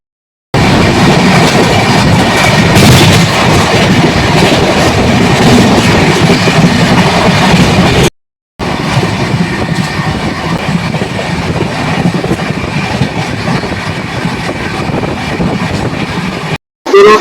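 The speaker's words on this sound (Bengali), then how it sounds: "দুরন্ত গতিতে ছুটে চলেছে এখন আমাদের ট্রেন গীতাঞ্জলি এক্সপ্রেস।" Gitanjali Express train speeding along at around 120 km/h, a loud continuous rumble and rattle of the rail cars with rhythmic clatter, briefly cut off midway, no talking.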